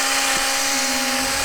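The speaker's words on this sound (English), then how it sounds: "I did drill that a little low down" A power drill whines steadily as it bores a hole into a wood slice for a Christmas ornament, a continuous close motor hum with no pauses.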